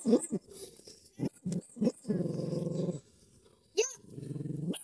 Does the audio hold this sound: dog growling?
yes